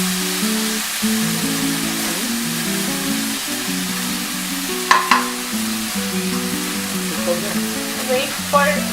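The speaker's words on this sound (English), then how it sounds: "Saute it for like 2 minutes." Egg breakfast ingredients sauté in a pan, a steady frying sizzle with occasional utensil scrapes and clinks from stirring, while soft background music plays underneath.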